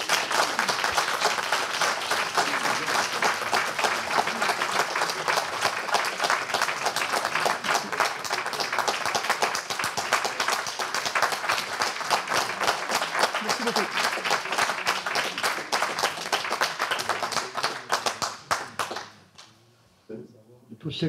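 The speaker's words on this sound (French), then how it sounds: "tous ceux qui ont applaudi" Audience applause fills a hall after a book presentation on the Great War, dense sustained clapping from a large crowd that runs steadily for most of the stretch before dying away near the end.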